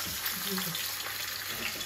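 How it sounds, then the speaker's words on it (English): Steady hissing sizzle of sirloin steak fat frying in a hot pan, continuous and close, with faint bits of movement underneath. "Make sure you get that nice sizzle."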